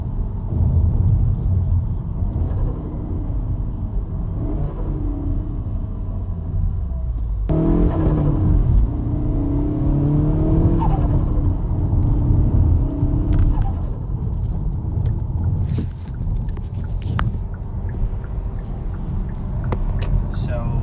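A Hyundai Veloster N engine rumbles and rises through gears from inside the cabin with the windows up, steady road noise throughout, with a muffled voice talking over it.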